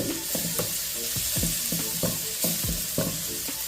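Five crushed garlic cloves frying in oil, a continuous bright sizzle overlaid with rhythmic scraping strokes of a spoon stirring the pan, close and fairly loud.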